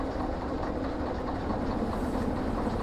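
Train cars in Derail Valley rolling slowly toward a coupling, a steady close rumble of wheels and rail with faint clatter, continuous and even throughout.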